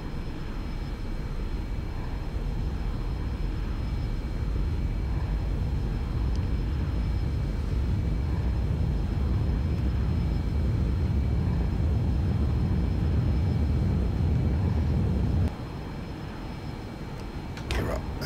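Aircraft jet engines roar at full takeoff power during a departure roll from Courchevel, a steady, loud, broadband rumble with a faint whine that drops off sharply near the end.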